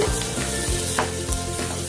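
Food sizzles and crackles steadily in a hot pan over a low-medium flame, frying until light brown, with occasional scraping as it's stirred.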